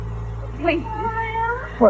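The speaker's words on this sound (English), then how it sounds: "That's a cat." A cat meows twice in an old-time radio horror drama, a drawn-out meow followed by a short one, close and clear, with a voice speaking just before it.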